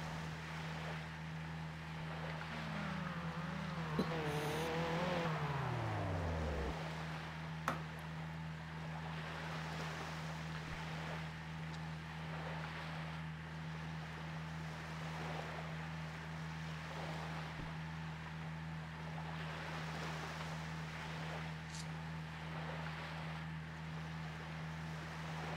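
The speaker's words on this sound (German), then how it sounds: "Ich kann die Wellen ans Ufer schwappen hören." Waves lap the shore in the racing game Need for Speed Hot Pursuit 2, a soft, steady wash under a constant low hum, with a brief falling engine-like tone early on and no talking.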